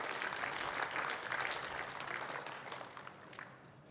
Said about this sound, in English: Crowd enjoying that. Full crowd here.